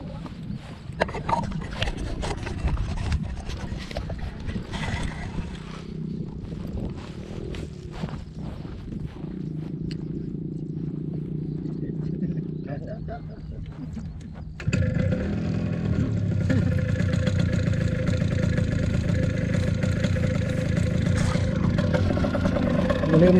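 A paramotor engine is started and warmed up before a first flight, with irregular knocks and handling noises followed by a sudden jump to a louder, steady engine drone in the second half.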